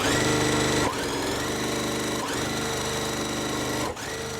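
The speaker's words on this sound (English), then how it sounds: "then I'm gonna sew this" A sewing machine stitches a quilt block in a steady, close, continuous motor whir, with two brief pauses where the rhythm dips before it runs on.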